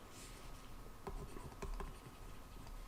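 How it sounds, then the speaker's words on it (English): Chalk or pen scratches out an equation in a math lecture on double integrals, with a few quick taps and strokes over a quiet room hum. "So let's write that down."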